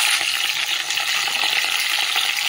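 Beans and a few eggplant pieces fry in hot oil with salt and turmeric, giving a steady, dense sizzle with light stirring scrapes close by, continuous and without any voices.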